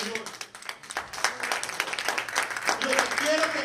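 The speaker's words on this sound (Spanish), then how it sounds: "Dale una ofrenda de palmas al Señor." A church congregation claps hands together as an offering of praise, a dense wash of many palms with scattered voices and cheers mixed in, fairly close and steady throughout.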